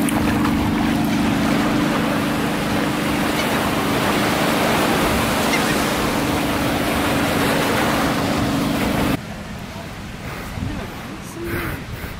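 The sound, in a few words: waves on the beach at Half Moon Cay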